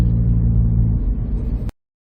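A 1996 Vauxhall/Opel Astra F runs with a steady, close low engine rumble, easing slightly toward the end before cutting off abruptly.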